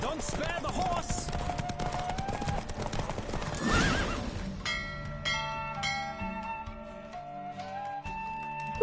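A horse in The Witcher video game gallops with rapid clip-clop hoofbeats and gives a loud whinny, then the galloping fades under game music and chimes.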